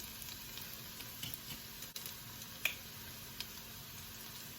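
Onions frying in a pan for a spicy South Indian salmon curry, a quiet steady sizzle with a few soft stirring clicks and scrapes, no talking.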